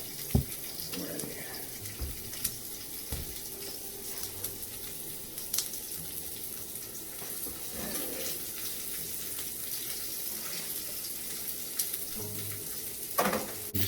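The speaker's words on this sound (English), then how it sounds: "I'm just giving it a light saute," A steady sizzle from shrimp lightly sautéed in a pan, with faint clinks and stirring scrapes over a continuous hiss, and quiet talk in places.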